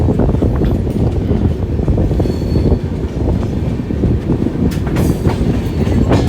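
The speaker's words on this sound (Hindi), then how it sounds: "2 मिनट के स्टॉप के बाद हमारी ट्रेन का वडोदरा स्टेशन से भी डिपार्चर हो गया।" The Darshan Express, a non-AC passenger train, pulls out of Vadodara station in India, its wheels clacking and squealing on the rails under a loud, continuous rolling rumble heard up close from on board, with rushing wind.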